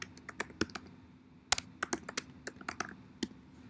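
Keyboard typing while entering text in a document, a run of quick, uneven clicks and clacks close to the microphone with brief pauses between bursts.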